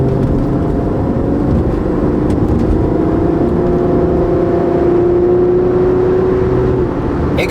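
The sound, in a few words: 2010 Honda Accord car accelerating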